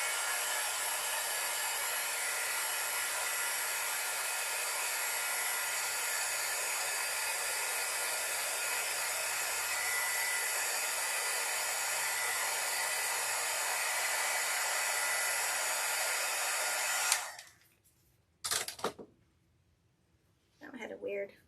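A heat gun blows with a steady, loud, broadband roar while warming styrofoam pieces so they can bend, then shuts off, followed by brief bits of handling noise.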